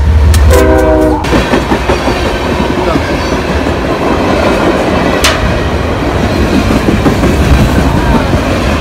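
A loud Polar Express train roars past up close, its horn blaring at the start, followed by continuous heavy rumbling and rattling wheels with wind noise.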